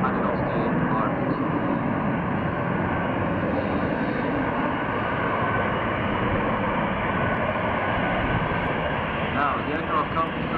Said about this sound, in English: Let's listen to the power of that engine.